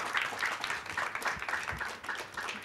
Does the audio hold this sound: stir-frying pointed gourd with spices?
no